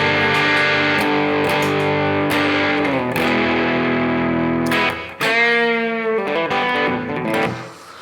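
Electric guitar on the bridge pickup played through an INDUMENTUM overdrive pedal, giving loud, thick sustained distorted chords that shift and ring out, with a fresh attack midway and a fade at the end.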